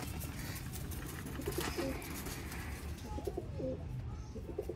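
Teddy pigeons coo in a loft, soft repeated cooing calls rising over a busy background with other birds chirping nearby.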